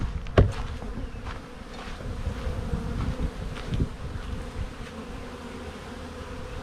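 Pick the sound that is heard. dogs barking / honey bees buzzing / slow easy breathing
honey bees buzzing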